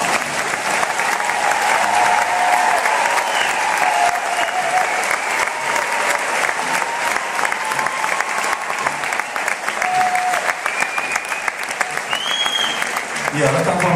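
Sustained applause from a concert audience at a show, a dense, steady wash of clapping that holds at full strength throughout without any speech over it.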